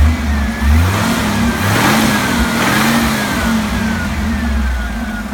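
A Jeep CJ7 engine with an Offenhauser intake and Flowmaster exhaust idles close by, a steady, smooth, low burble that stays loud and even throughout with slight rhythmic pulsing.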